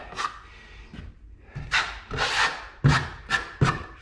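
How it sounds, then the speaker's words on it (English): Trowel spreading drywall joint compound over taped mobile home wall joints, a series of close scraping and rubbing strokes in an uneven rhythm. "you just put some mud on your, on your trowel here and you just go like this"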